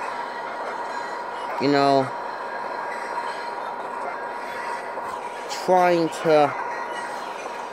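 A fanmade Amtrak Greenfield Zephyr locomotive in a train video game runs at speed over a steady rolling rumble, with one horn blast and then two more. Someone talks over it.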